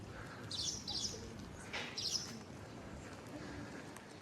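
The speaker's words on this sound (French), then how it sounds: "on peut entendre les petits oiseaux" Small birds chirping in a calm Cape Verde village among trees, a few bright tweeting bursts rising above a low steady background hum, moderately distant.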